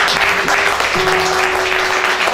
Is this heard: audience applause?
yes